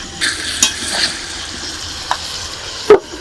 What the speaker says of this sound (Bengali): মাংসটাকে এবার ধীরে ধীরে ঢাকা দিয়ে দিয়ে কষিয়ে নিতে হবে